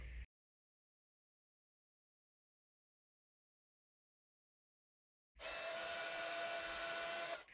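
A heat tool blowing hot air to emboss white powder onto black cardstock: a faint click, a long silence, then a loud, steady, close whirring hiss for about two seconds.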